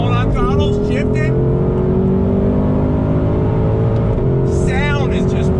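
A 2020 Ford Shelby GT350R on a race track roars as its engine climbs through the revs, with quick shift breaks between pulls, loud and close inside the cabin alongside continuous engine drone.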